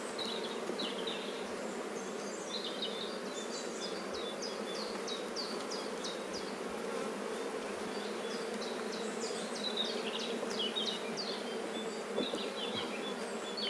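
Honeybees buzz steadily around an open beehive during a brood inspection, a continuous close hum with scattered higher whines of individual bees passing near, no voices.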